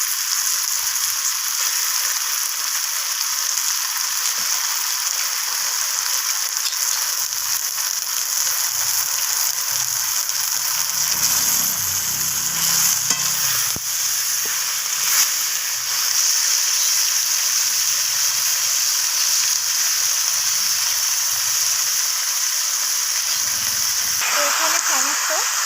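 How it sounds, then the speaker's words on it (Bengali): Chicken scraps frying in a pan with onion and tomato give a steady, loud hiss and sizzle that runs unbroken throughout, with a low rumble of stirring in the middle. "পর আমি পেঁয়াজ আর টমেটোর সাথে এইভাবে নাড়াচাড়া করে নিচ্ছি"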